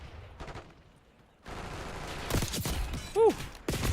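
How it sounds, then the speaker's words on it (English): Rapid gunfire and impact sounds from the video game Black Ops 6, with bursts of shots building louder toward the end, including a sharp headshot hit, loud and close with no talking over it. "I do really like the headshot noise in this game in Black Ops 6"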